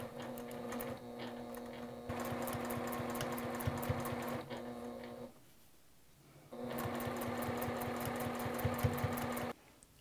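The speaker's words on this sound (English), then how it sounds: "Quick back stitch just to make sure things don't split open when I flip it." A sewing machine stitches a fabric star coaster with a quick back stitch, its rapid, even mechanical whirr running in close bursts with a short pause midway, no talking.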